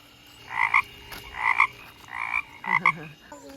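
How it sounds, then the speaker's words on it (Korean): A large frog croaks at a campsite with a swimming pool, four rhythmic, throaty calls in steady succession, fairly close and clear, with a faint voice at the very end. "엄청 큰 개구리다 진짜 개구리야"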